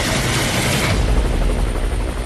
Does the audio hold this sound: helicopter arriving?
yes